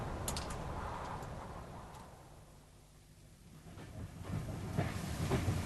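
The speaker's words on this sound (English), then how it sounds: "This train's taking forever." A radio-drama sound effect of a slow train running, with a continuous rumbling roll and faint rhythmic clicks over the rails, steady and moderately quiet, swelling slightly toward the end.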